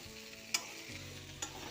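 Fried papaya, potato and soybean chunks are stirred into sizzling spices for soybean korma, with two sharp utensil scrapes against the pan over a steady low frying hiss, close by and without talking.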